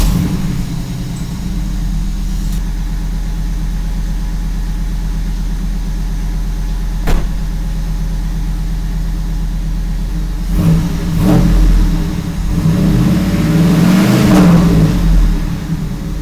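A 1997 Pontiac Firebird Formula V8 with almost no mufflers idles with a rough, deep rumble, then revs hard several times near the end, loud and close, with no one speaking.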